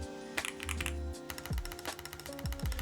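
Fingers type on an ND104 office keyboard in a close, steady run of clicky keystrokes, with brief pauses between short bursts.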